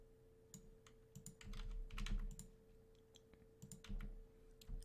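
Computer keyboard being typed on for the Control G group shortcut, a series of quiet, close clicking keystrokes over a faint steady hum, no talking.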